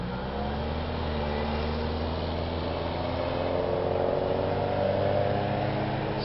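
Steady traffic roar from cars passing close by on a road at Lake Simcoe amid a shad fly swarm, with a continuous engine hum and tire noise throughout.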